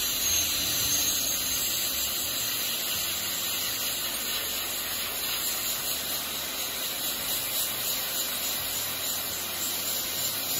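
A hot air plastic welder softens the rod and base material on a custom RV tank, a steady close hiss of blowing hot air with a high whine that runs unbroken throughout.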